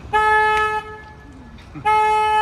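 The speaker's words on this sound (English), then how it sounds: "I have to honk the horn." A vehicle horn sounds two long, loud steady blasts separated by a short pause, heard up close while driving past courthouses in Texas.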